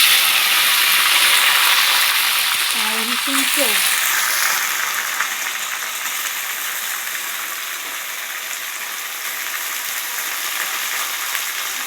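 Vegetables for a paneer curry fry and get stirred in a pan, a loud continuous sizzle with a few scraping stirs early on that settles into a steady hiss, nearby and alone.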